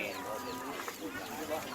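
A chicken clucks softly amid the busy background hum of a Thai-Lao open-air market, faint and partly blended with distant crowd noise.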